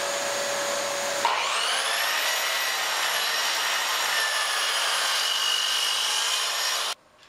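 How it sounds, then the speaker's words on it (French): A power saw cuts a wooden board to length for a checkerboard cutting board, its motor spinning up and whining steadily as the blade works through the wood for several seconds before stopping abruptly. "Première étape, je coupe mon bois de la longueur que j'ai figuré que j'avais besoin."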